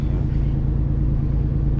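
Newer semi truck idling through exhaust regeneration, a steady low diesel rumble with an even drone, close and continuous throughout.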